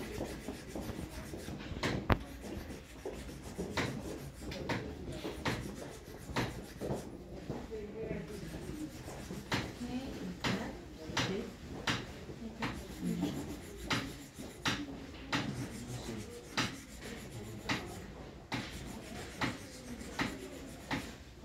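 Sterling silver name jewelry being polished by hand, repeated soft rubbing strokes in an uneven rhythm, close and quiet, with people talking over it.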